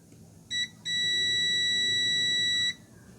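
Continuity beep from a multimeter probing a component on an LG TV power adapter board: a short tone, a brief gap, then a steady high beep lasting nearly two seconds before cutting off.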